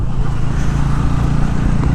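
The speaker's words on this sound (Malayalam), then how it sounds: "ഇതിൻ്റെ സൗണ്ട് കൊള്ളാം കേട്ടോ ഈ വണ്ടി വൺ സിക്സ്റ്റി ആണ് കേട്ടോ പൾസർ എൻ വൺ സിക്സ്റ്റി ആണ്" Bajaj Pulsar N160 motorcycle engine running nearby, a loud steady low rumble with constant throb and no clear revving; no talking.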